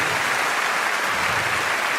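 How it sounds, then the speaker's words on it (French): Comedy show audience applauding the performers, a dense, loud, continuous roar of many hands clapping close up with no gaps. "Allez, applaudissez-les une dernière fois, ça leur fait plaisir."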